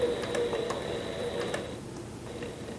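A leather sewing machine stitching through thick cork and veg tan leather, with a steady mechanical whir and faint rhythmic ticking, close by, winding down near the end.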